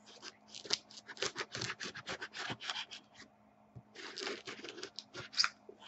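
A blade cuts open a cardboard mail package box, a close run of quick scratchy slicing and tearing strokes in two bursts with a short pause between, no talking.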